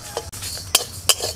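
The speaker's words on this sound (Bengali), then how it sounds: "আমি কড়াটা নামিয়ে আস্তে আস্তে এটা নাড়াচাড়া করে নিচ্ছি" Spices being stirred in a kadai taken off the heat, with a few soft metallic scrapes and clinks of the spoon against the pan, close and without talk.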